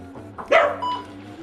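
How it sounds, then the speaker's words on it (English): A Scottish terrier named Maggie lets out a single sharp bark close by at a front door during visitor training, with a low steady hum beneath and quiet surroundings. "Notice that Maggie gets a few barks off."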